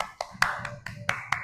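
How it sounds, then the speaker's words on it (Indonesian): Scattered hand claps in a first-grade elementary classroom, about seven separate sharp, faint claps at an uneven pace, with quiet gaps between them. "Tepuk tangan untuk kelompok 3"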